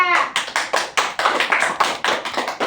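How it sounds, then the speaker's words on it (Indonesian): Students in a classroom clap rhythmically, a quick run of sharp, fairly close hand claps lasting a few seconds with no talking. "Tepuk tangan untuk Rizka."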